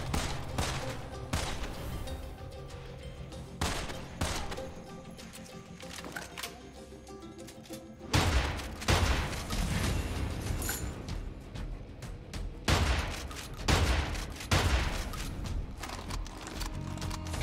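Shotgun blasts ring out in Immortal Redneck, repeated loud shots in irregular bursts layered over busy game music and effects.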